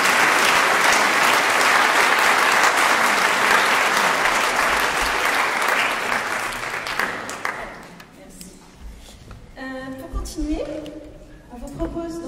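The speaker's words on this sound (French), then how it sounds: "je crois qu'on peut l'applaudir." Audience applause at a conference on women and digital technology, a loud dense ovation that fills the room for several seconds before thinning out, with voices beginning to talk over the fading claps.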